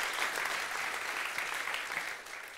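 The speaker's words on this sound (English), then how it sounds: "can we just have a little round of applause for everyone for speaking" Audience at a business technology conference talk gives a steady round of applause, moderately loud and continuous, thinning slightly toward the end.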